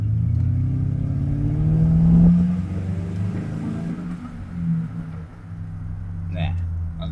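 Car engine starting and revving loudly in the morning at a mechanic's place, a steady deep idle rumble swelling with throttle blips, close and dominant, while someone talks over it.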